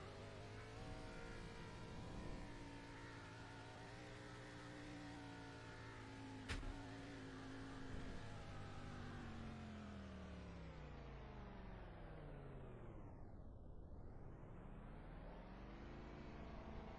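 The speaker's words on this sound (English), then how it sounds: "Hard to tell when there's two cars on the track with the audio now." Race cars at speed on the oval at Charlotte during a NASCAR NAPA 300 race, a steady engine roar with a clear Doppler pass-by swell and drop near the end, no voices.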